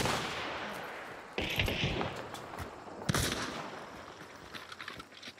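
Bursts of gunfire exchanged in Hunt: Showdown, a string of sharp shots and rattling volleys at middling distance over a steady background, with no talk.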